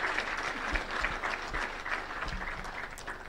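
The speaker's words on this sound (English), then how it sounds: "A round of applause for our honored guests." An audience at the icipe Vision and Strategy launch in Kenya applauds honored guests, a steady, even wash of many hands clapping at moderate volume throughout.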